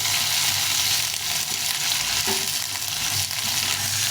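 Potatoes and bitter gourd strips frying together in oil, a dense continuous sizzle with occasional stirring scrapes of a spatula in the pan.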